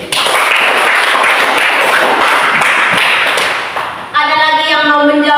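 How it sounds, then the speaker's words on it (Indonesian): Students in a classroom give a loud, dense burst of applause lasting about four seconds, then a voice starts speaking right after the clapping stops. "Kita beri tepuk tangan kepada Jerry."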